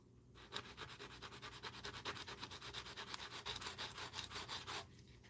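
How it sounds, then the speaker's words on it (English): A sanding block scrubs paint off a plastic toy blaster part in a rapid, steady back-and-forth rhythm of close, rasping strokes for several seconds, with no talking. "A sanding block. And I'll just take the paint off."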